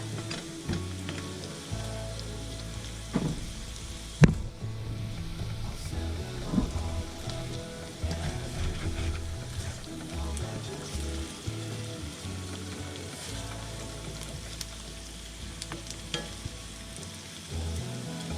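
Potatoes and onions fry in a pan on a home stove, a steady close crackling sizzle with occasional pops and a sharp knock, continuing without talk.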